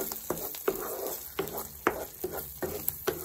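Matar paneer masala with cream yogurt is stirred in a pan over a slow flame, giving a low sizzle broken by regular scraping strokes about every half second.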